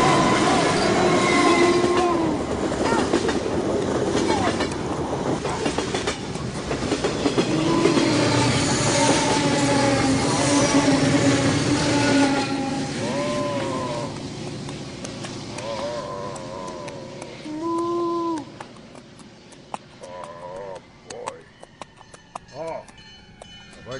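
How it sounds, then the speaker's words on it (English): A train rolls along the rails for a sustained stretch, its rumble and wheel squeal filling the scene, with voices talking over it. "Can you tell me the train's coming?"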